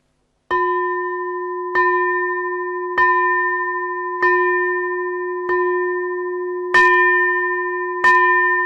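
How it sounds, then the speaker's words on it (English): A bell is struck seven times at a slow, steady pace, each clear ringing tone sustaining and decaying before the next, loud and close with no voices. "we end by ringing the bell of invincibility"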